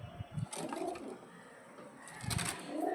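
Lalchira pigeons cooing softly at close range, a few low throaty coos separated by quieter rustling, faint overall.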